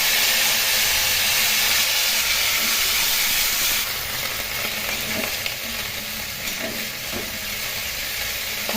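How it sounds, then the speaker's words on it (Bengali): Cauliflower pieces frying in hot oil with white cumin seeds, a loud dense sizzle and hiss up close that eases slightly partway through, with faint stirring clicks and no voices. "এখন খুব ভালো করে ভেজে নেবো।"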